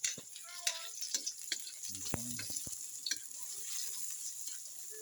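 Garlic and onion sizzle in a frying pan with a steady hiss, broken by stirring clicks and scrapes, close and fairly quiet, with a brief low voice in the middle.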